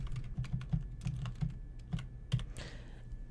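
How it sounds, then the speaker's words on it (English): Someone types a chat message on a computer keyboard, giving a quiet, close run of irregular key taps that ends with a firmer keystroke, with no voices. "So in order to communicate with John, simply type in your message"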